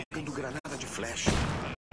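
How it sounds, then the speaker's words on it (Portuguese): Flashbang grenade detonating in the tactical shooter Ghost Recon Wildlands: a broadband burst of noise that swells and holds for about half a second before cutting off, with game sounds and a voice talking just before it. "Jogando granada de flash."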